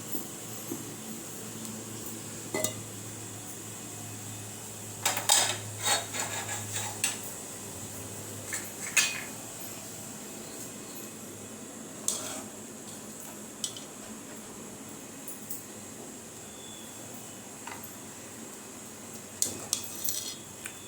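Keema is served from a pot into dishes, with scattered clinks and scrapes of metal spoons against cookware over a steady low background hum and no talking.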